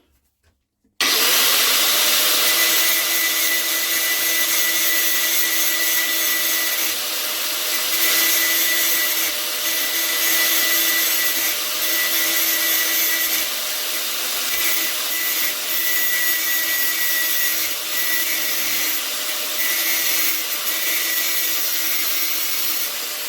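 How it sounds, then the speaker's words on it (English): A loud, steady, high-pitched whine of an angle grinder cutting metal, starting abruptly after a moment of silence and running continuously without pause. "here comes the angle grinder"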